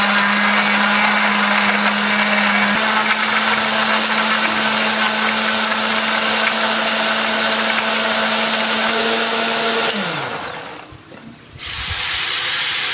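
Kitchen blender grinding candlenuts, shallots and garlic with a little water into a spice paste for soto, a loud steady motor whir with broadband churning that drops in pitch as it winds down near the end, no talk.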